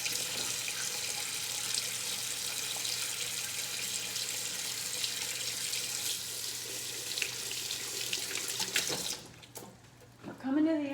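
Tap water runs steadily into a sink as mushrooms are washed, a broad continuous hiss lasting about nine seconds before cutting off, followed by a few faint handling sounds.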